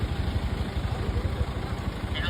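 A motorcycle engine idles close by on a street in Cebu City, giving a steady low, throbbing pulse that holds evenly throughout.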